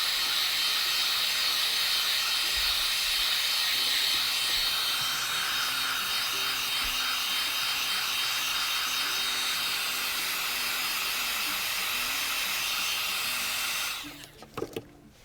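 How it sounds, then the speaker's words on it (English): A heat embossing gun blows hot air in a steady, close hiss while smoothing a craft sign, then cuts off near the end, leaving a few soft handling knocks. "That's my heat embossing gun."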